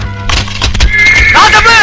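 A horse neighs loudly in a Tamil action film scene, a long rising whinny amid clattering hooves and bustling, busy film soundtrack noise, with voices mixed in.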